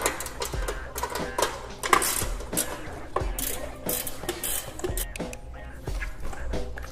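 A ratchet wrench removes number 14 bolts from a motorcycle exhaust header, giving a close, steady run of quick clicking turns with small metallic knocks.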